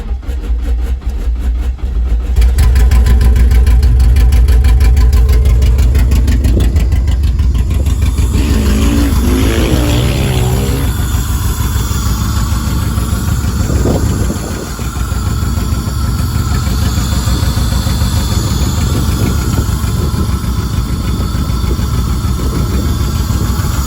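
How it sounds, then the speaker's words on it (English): A Honda del Sol with a swapped K24 engine cranks briefly, then catches and settles into a loud, steady idle close by, with a small dip and recovery partway through and no talking. "But just wanted to show you guys that it starts"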